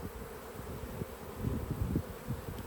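Honey bees buzz close by during a hive inspection, a continuous droning hum with small swells and flickers of louder buzzing as individual bees pass near.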